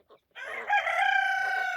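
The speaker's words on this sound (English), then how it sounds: "Why is that chicken digging in my pig pen?" A chicken in a pig pen gives a loud, close, drawn-out crowing call after a brief soft cluck, sustained and alone without speech.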